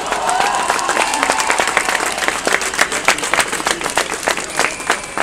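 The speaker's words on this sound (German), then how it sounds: "Einmal Applaus für die beiden nochmal" Crowd applause for two speakers at a street demonstration in Cologne, dense outdoor clapping with crisp individual claps and faint voices mixed in throughout.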